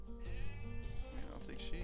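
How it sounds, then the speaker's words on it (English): Sheep bleat in the video game Age of Empires 2, a short wavering cry heard close and moderately loud, with players talking over it. "More sheep."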